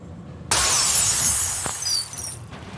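A grenade blast in the shooter game Turning Point: Fall of Liberty bursts in abruptly, loud and bright, with a long ringing shower of glass-like crackle and sparkle that fades over a couple of seconds.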